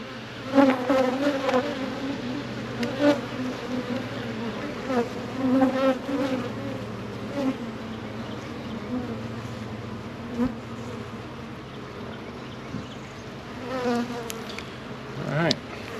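Honeybees hum around an open beehive, a dense and steady buzz with individual bees droning close past, alone without talk.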